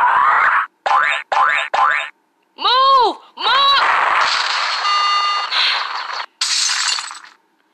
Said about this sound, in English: Banana bomb.